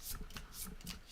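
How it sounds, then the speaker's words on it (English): Playing cards shuffled during a tabletop card game session, several quick papery riffle bursts in a steady rhythm, close and fairly quiet, with no talking. "There is quite a lot of shuffling in this game"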